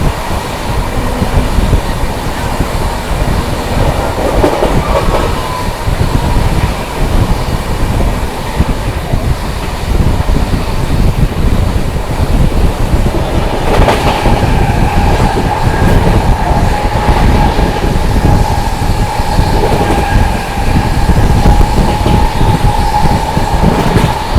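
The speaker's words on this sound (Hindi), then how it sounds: "क्या भाग रही है भाई हमसफर, क्या भाग रही है" The Humsafar Express, Anand Vihar Terminal to Prayagraj, rushes past at speed, a loud continuous rumble of wheels and carriages that holds steady for the whole stretch, with faint rhythmic clatter over the roar.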